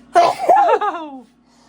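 A single loud sneeze comes up close, followed by a brief voiced, tailing sound as it fades, with quiet around it.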